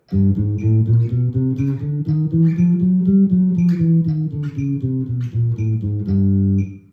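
Low, plucked bass notes played one after another in an even rhythm, stepping gradually upward and then back down, clear and close with no talking.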